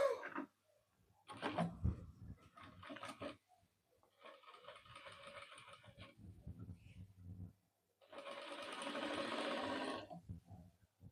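A sewing machine stitches a coat collar through the lining in several bursts of whirring, the longest near the end, separated by quiet pauses and handling noises.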